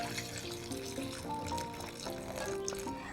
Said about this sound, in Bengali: এবার আমি কড়ার মধ্যে দিয়ে দেবো একটুখানি জল